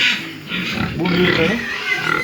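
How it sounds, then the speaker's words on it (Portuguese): Pigs grunt and squeal loudly in a farm pen, a dense, continuous close chorus of snorts, with someone speaking briefly over them. "Porco bonito aí, ó."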